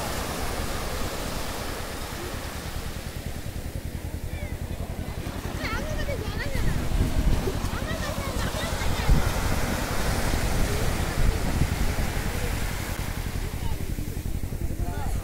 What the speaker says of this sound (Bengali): দেখা যাক ঢেউটা আমাকে ছুতে পারে নাকি